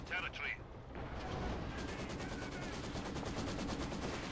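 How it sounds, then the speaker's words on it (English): An assault artillery barrage in the Company of Heroes 2 real-time strategy game: a dense, continuous rumble of shell impacts and gunfire, steady and loud throughout, with a brief high-pitched game sound at the start. "we got assault artillery called down here"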